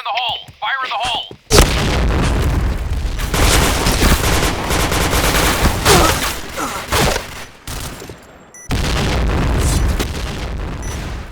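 Grenade blast followed by dense, continuous gunfire and bursts of explosions in a multiplayer shooter on the Sandstorm map, loud and close with a brief pause near the end, a short voice call at the start.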